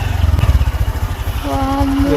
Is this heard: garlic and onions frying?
no